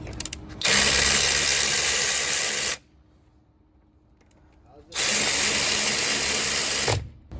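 Electric ratchet removing torqued wheel bolts, two loud sustained whirring, rattling runs separated by a silent pause.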